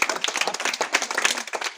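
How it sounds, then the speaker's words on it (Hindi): Children in a primary school clapping their hands together in a quick, dense burst of applause, close and lively, with no talk over it. "ताली बजाओ इनके लिए"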